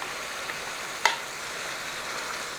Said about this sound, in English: We're going to use 2 pounds of ground beef, kind of mash that up so we separate it and brown it good